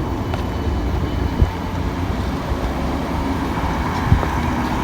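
Class 320 unit 320-414 at Motherwell station in Scotland, a steady low rumble of the train standing or moving slowly at the platform, with a couple of faint knocks over continuous background noise.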